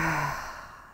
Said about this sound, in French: Longue expire par la bouche.